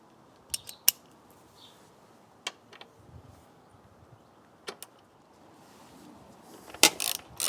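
A wrench turns a 10mm socket on a hex bolt of a pannier rail fitted to a Royal Enfield Himalayan 450 motorcycle, making a handful of sharp, faint metallic clicks spaced irregularly over a quiet background.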